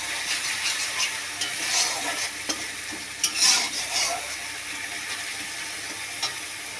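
Spice masala stirred in a wok with a spatula for a village-style shapla (water lily stem) dish, giving steady scraping and stirring strokes over a soft continuous sizzle, close and moderately loud with no talking.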